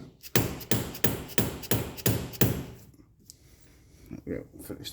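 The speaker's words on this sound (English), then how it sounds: "So just take the hammer." Sharp hammer taps driving a polyurethane bush into the suspension of an Audi TT, five or six evenly spaced close metallic knocks followed by quieter workshop sounds and a couple of softer taps.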